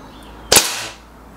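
A single sharp crack from a Remington Warhawk air rifle, fired once on a target range, with a short fading tail and no voices.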